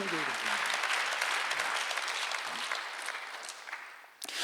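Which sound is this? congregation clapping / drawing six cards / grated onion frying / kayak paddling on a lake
congregation clapping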